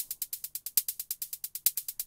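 Rapid hi-hat pattern run through a custom delay effect in Ableton, bright crisp ticks repeating about ten times a second with short decaying echoes and a few louder accents, heard alone.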